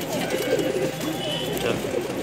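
A Bijnor pigeon coos softly in a continuous, close, low murmur, with steady background noise throughout.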